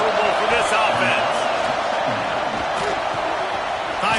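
A stadium crowd roars in a college football video game between Vanderbilt and Texas A&M, a steady dense wall of noise with shouts and cheers throughout, heard under a commentator's voice.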